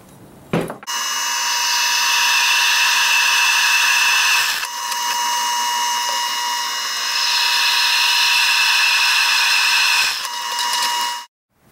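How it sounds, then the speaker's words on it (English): A power drill bores tang holes through a steel knife blade, a loud, close, high-pitched whine running in two long passes with a brief dip between them, then stopping. "I'm going to go ahead and drill those out and mount it to the jig"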